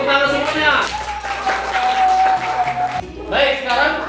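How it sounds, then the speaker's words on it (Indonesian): Second-grade schoolchildren clap for their groups in a classroom, a short burst of applause and some cheering between stretches of an adult voice talking. "Kita beri tepuk tangan semuanya."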